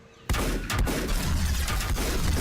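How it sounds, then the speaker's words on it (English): A heavy double-barrel shotgun in the video game Volcanoids fires one loud, sharp blast, followed by a rumbling tail with smaller impact noises and movement sounds. "Only gun you get, at least early in the game, is this double barrel shotgun"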